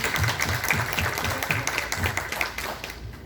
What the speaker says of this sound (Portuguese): Palmas para todos